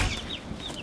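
Chickens cluck in short, bright calls close by, with a few repeated squawks over a steady background rumble.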